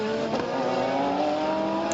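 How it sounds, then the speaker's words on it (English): A Corvette GT race car accelerates through a corner during an FIA GT race at Adria, its engine a loud, rising whine that holds steady throughout, heard near with no voices. "the Corvette gets on the power a little bit late and has been passed on the inside of the corner"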